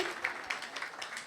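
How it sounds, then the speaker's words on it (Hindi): Audience at a school event in Greater Kailash, New Delhi, gives a faint, scattered round of clapping, several soft claps pulsing through with light background murmur. "तो इस बात के लिए जो जोरदार तालियों से इनका अभिनंदन करेंगे।"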